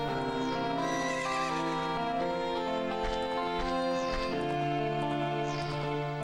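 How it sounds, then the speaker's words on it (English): A horse whinnies a few times over continuous melodic music in the video game Zelda: Ocarina of Time, the neighs rising and falling above the steady tune. "this horse is going nuts"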